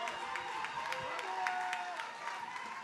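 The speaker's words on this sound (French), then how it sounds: "Un tonnerre d'applaudissements, s'il vous plaît." A crowd applauding and cheering continuously for a choir at a music festival, dense clapping at a steady level throughout.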